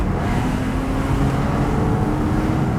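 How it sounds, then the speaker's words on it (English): Porsche Boxster S engine driven with the roof down, a steady loud drone of engine and road noise throughout, with no distinct gear-change snaps standing out. "With the roof down, you can hear every little rasp that it makes, every little boom, every snap, every time you switch gears."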